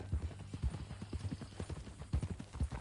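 Horse hooves clip-clopping at an irregular walking pace on a ranch, faint and muffled low thuds in a steady patter, heard alone.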